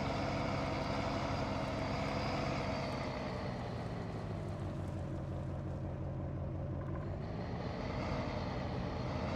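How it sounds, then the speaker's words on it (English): A truck engine in Farming Simulator 19 runs loudly and steadily, a deep rumbling drone with a slight shift in tone partway through, alone with no talking. "This truck is pretty loud"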